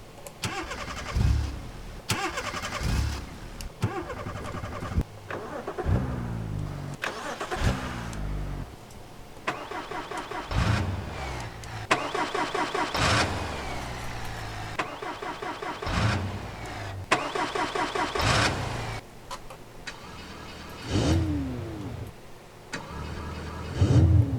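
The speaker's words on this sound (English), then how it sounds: "going through all the different cars and listening to the startup sound" A series of car engines in the video game BeamNG.drive starting one after another, each cranking, catching and revving before settling to idle, separated by short pauses.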